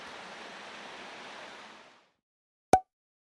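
A waterfall beside a stone bridge in a hemlock glen gives off a soft, steady rushing that fades out after about two seconds and is followed by silence and a single sharp click.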